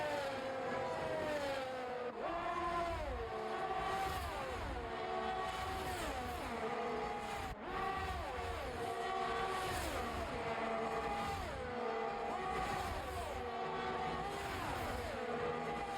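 Ferrari race cars running nose to tail in a circuit race in Belgium, their engines a continuous loud high whine with gear changes rising and falling in repeated sweeps, close and steady with no pauses.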